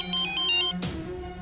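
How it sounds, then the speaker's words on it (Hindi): A phone ringtone sounds in a brief melodic ringing pattern, fairly clear and close, with a low hum beneath and no speech. "ये देखो फिर बज रहा है तुम्हारे सामने भी।"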